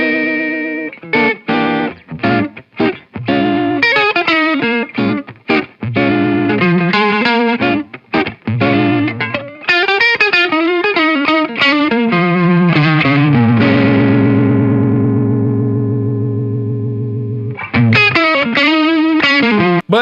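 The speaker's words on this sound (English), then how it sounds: "You can almost get like a Leslie rotating speaker thing." Electric guitar run through an Eastwood Black Box effects pedal set for a Leslie-style rotating speaker sound, with warbling, swirling, slightly distorted chords and notes played continuously for about twenty seconds, including a long sustained chord, loud and alone.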